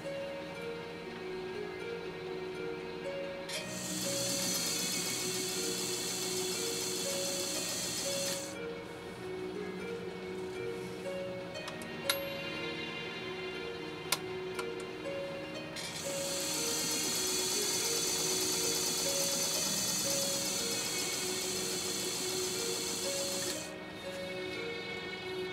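A post-WWII Japanese Dressmaker sewing machine stitches in alternating runs and pauses, its rapid mechanical clatter and rhythmic whir close and steady, with faint ticks between bursts and no talking.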